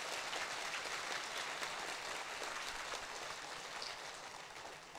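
A seminar audience applauds at a business success talk. The clapping is a sustained, even wash of many hands that holds steady for the whole stretch and fades slightly at the end.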